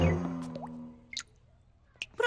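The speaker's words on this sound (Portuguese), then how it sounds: "Professora, a torneira está a pingar." A fading tone gives way to a few sparse, wet drips from a leaking tap, each a small isolated plink with quiet pauses between.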